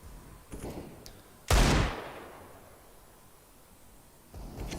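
Desert Eagle pistol fire in a Counter-Strike match, a few faint distant pops followed by one loud sharp shot with a fading tail, then another burst at the end.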